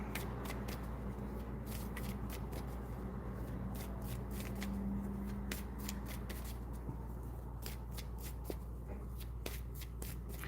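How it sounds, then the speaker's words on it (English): Tarot cards are shuffled continuously at close range. Quick riffling flicks and soft slaps repeat in an irregular rhythm over a low steady hum, with no talking. "I just shuffled and got the same card"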